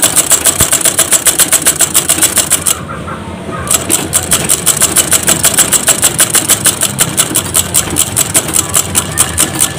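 A sewing machine stitching a skirt's elastic waistband runs in a fast, steady stitching rattle, pauses briefly, then resumes its rapid mechanical clatter up close.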